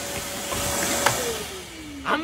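Vacuum cleaner running steadily close by, a constant whirring drone whose motor pitch slowly falls and shifts, with a couple of brief knocks and clatters against it.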